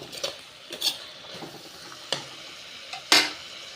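Tomato and onion for an egg gravy being stirred in a pan, with a low sizzle broken by several sharp spoon scrapes and taps against the vessel, spaced irregularly and close.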